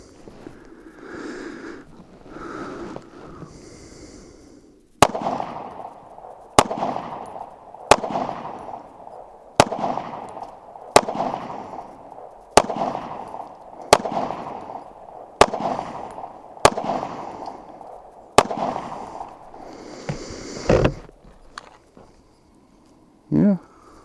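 Rifle shots fired outdoors, about ten sharp cracks in a steady rhythm roughly every one to two seconds, each trailing off in echo, with quieter talk and handling noise before and after.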